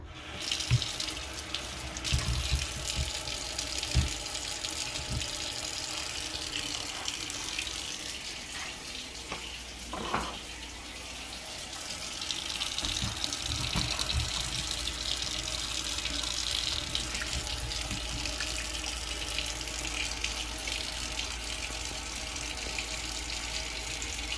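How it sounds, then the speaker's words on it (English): Cooked frozen ravioli drained in a pasta drainer, with water pouring steadily for around twenty seconds, a broad, continuous rushing splash at close range with a few brief clunks and no talking. "Let me get this drained. I've took out my pasta drainer."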